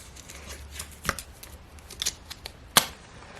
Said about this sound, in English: I cannot resist checking to see if these matches work, so let's do that.